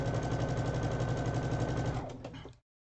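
A sewing machine stitching a quilt block, its fast even needle chatter running steadily for about two seconds before slowing and stopping.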